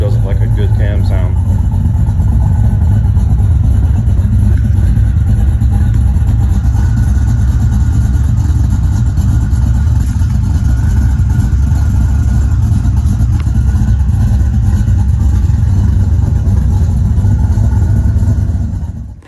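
A Studebaker 259 V8 with a lumpy cam idles steadily in a garage, a loud, continuous low rumble with an uneven loping beat that carries on for about nineteen seconds with no talking.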